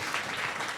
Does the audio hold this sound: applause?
yes